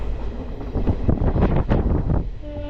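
An Indian sleeper train rolls along the rails toward Rishikesh, with a steady rumble, rattling carriage noise and rhythmic clacks heard from inside, plus some wind buffeting the microphone.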